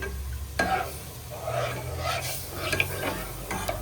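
Milk sizzles and fries in a hot pan while a utensil stirs and scrapes it, producing bursts of crackling over a low steady hiss, close and fairly loud.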